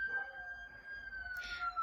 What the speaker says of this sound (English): I apologize, siren going. I hope the siren's not coming through. It's very loud.